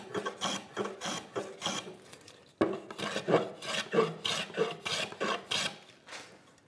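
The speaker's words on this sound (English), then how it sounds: "I am going to put a slight bevel around the edge just to ease this into the mortise hole here." Rasp filing a slight bevel around the edge of a wooden tenon at a workbench, a series of rhythmic, close, rough scraping strokes with a short break midway before they resume.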